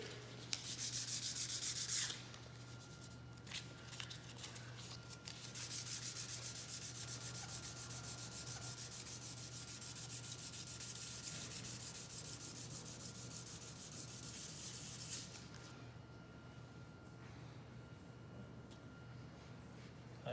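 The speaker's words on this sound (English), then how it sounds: "So I'm using 1800 grit sandpaper to just smooth out the surface and remove any excess wood fillers" A hardwood floor patched with wood filler is hand-sanded smooth with 1800 grit sandpaper, soft steady rubbing strokes at close range with a brief louder burst at the start, under a low constant hum.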